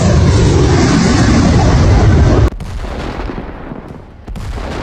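Gunfire aimed at a Ukrainian drone: a loud, dense roar of fire that cuts off sharply, followed by quieter rumbling noise with a brief dip and then a resumed burst.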